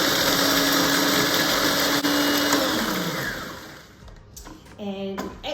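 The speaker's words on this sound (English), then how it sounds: "So we're just going to blitz it up to start with." A food processor blitzes rolled oats in a loud, steady whirring grind for a few seconds, then stops and spins down, leaving softer clatter and rattling at the end.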